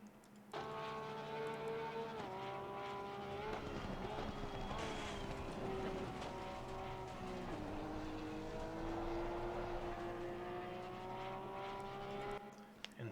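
A race car engine in the NASRS league racing sim at Watkins Glen revs hard and continuously throughout, its pitch climbing through the gears with brief dips at each upshift, loud and close with no talking.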